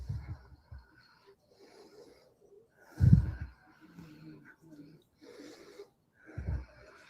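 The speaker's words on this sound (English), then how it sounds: "Her breathing sounds terrible" A woman's laboured, wheezing breathing, faint and uneven, with a few louder rasping breaths spaced several seconds apart and quiet voices murmuring between them.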